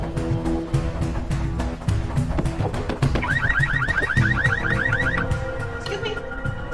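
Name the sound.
car alarm going off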